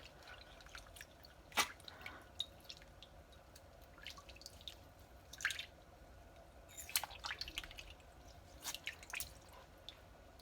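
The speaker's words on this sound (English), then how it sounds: "Here's our mouthpiece brush. We're going to go in from both ends." A brush scrubs inside a trumpet mouthpiece in soapy water, giving quiet, close drips, squishes and splashy clicks in irregular bursts.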